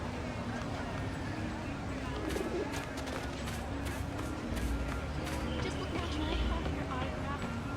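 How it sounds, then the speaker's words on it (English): Pigeons coo softly in the open-world city of Marvel's Spider-Man, faint calls and wing flutters scattered over a steady street ambience. "I'd better scan some pigeons to make sure."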